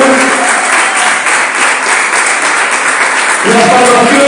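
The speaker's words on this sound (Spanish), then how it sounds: "Denle un fuerte aplauso al Señor." Church congregation applauding loudly and steadily throughout, a dense wash of clapping with a voice speaking over it near the end.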